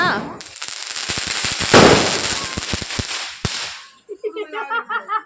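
Diwali firecrackers burst in a dense, crackling barrage of sharp pops and snaps, close and loud for several seconds, then cut off as people's voices take over.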